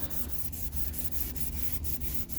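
Back-and-forth sanding of a BMW Z3 headlight lens with gentle pressure, a steady close rubbing rasp with regular strokes about every quarter second, continuous and unaccompanied by talk.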